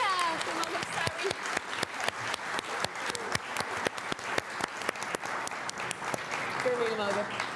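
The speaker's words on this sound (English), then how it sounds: "So can we give a big round of applause to Alexandra and Sophia?" Warm, sustained applause from a conference audience greets Alexandra and Sophia, with steady clapping throughout and voices audible underneath the crowd.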